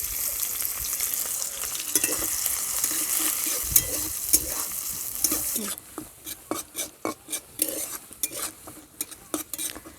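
Chopped onions hit hot oil with nigella seeds and sizzle loudly at first, then the frying quiets while a utensil scrapes and clinks against the pan in uneven stirring strokes.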